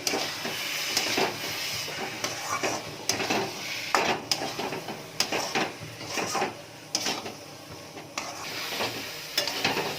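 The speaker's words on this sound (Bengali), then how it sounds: "ভিনিগারটা দেওয়ার পরে ভালো করে একটু মিশিয়ে নিচ্ছি" Amla pickle being stirred in a pan after vinegar is added, with steady scraping and clinking of a spoon against the metal and a soft sizzle underneath, close and continuous.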